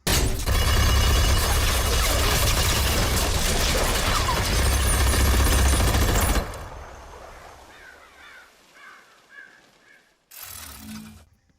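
Rapid mechanical firing of a hero's main gun in Overwatch, a dense loud clatter that runs steadily for about six seconds, then stops, leaving quieter game sounds and one short loud burst near the end.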